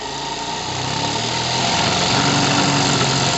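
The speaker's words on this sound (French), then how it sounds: "cette machine magnifique, écoutez sa vitesse" A live steam model engine runs fast on a tabletop test stand, giving a steady, loud, high-pitched mechanical whir with a slight rise in intensity partway through and no talk.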